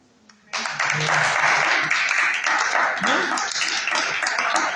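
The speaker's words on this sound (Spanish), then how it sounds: "¿Cuántos dan un aplauso a nuestro Señor Jesús?" A church congregation breaks into sustained, dense applause after a brief quiet start, loud and steady throughout with no voice standing out above it.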